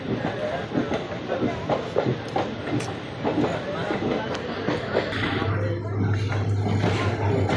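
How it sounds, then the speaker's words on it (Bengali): A train rumbles at Haflong railway station in a hilly area, with rhythmic clattering from the cars and a low steady drone rising toward the end, fairly close. "দেখতে পাচ্ছেন এটা হাফলং রেলওয়ে স্টেশন"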